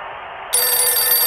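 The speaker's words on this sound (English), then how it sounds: "Oh, phone call. But a much better sounding one." A telephone rings in the video game Syberia, a bright, continuous electronic bell that starts abruptly and stays loud and steady to the end.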